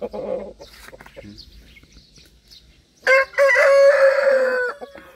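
Light Brahma chickens cluck softly at first, then one crows loudly and close by in a long drawn-out call, with faint talk in the background.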